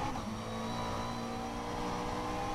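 A McLaren 720S GT3 engine over-revving in the rFactor 2 racing simulator, a loud, sustained high-pitched engine roar that holds steady and close throughout.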